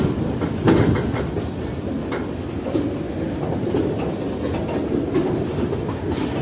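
A freight train rolls steadily through the broad rail yard at Kotri Junction, its wagons rumbling close and loud in a continuous wash with faint wheel clatter throughout.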